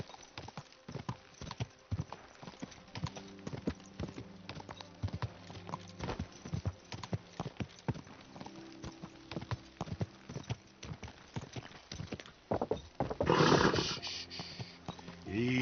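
Horse hooves clip-clopping in Kingdom Come: Deliverance II, a steady run of sharp hoof strikes close by, with a louder rustling burst near the end and a brief snort.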